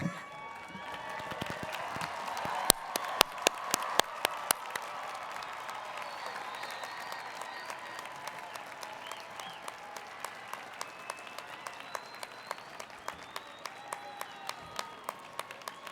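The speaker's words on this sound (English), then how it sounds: "Please join in giving a hoot and holler to our newest Sun Devil graduates and another round of applause." Audience applause and cheering for new graduates at a university convocation ceremony in a large hall, a sustained steady wash of clapping with sharp nearby claps standing out, moderately loud and continuous.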